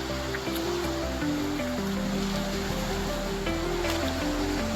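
Steady rushing wash of sea waves around a fishing boat out at sea off the Konkan coast, continuous and fairly loud, with a low droning motor hum running underneath.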